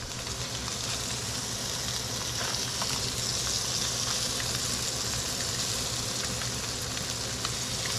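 Sheepshead fillets fry in butter in a pan, giving a steady, dense sizzle that crackles evenly throughout at close range with no talk over it.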